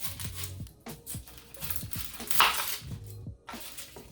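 A knife dices onion on a cutting board in a home kitchen during vegan lasagna prep, a series of close, crisp chopping taps in irregular bursts, with a brief clatter midway.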